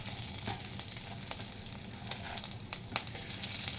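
Ginger-garlic paste and curry leaves sizzle in hot oil in a pan, with a soft, continuous crackle and occasional brighter pops. The frying is fairly quiet and close, and no voices are heard.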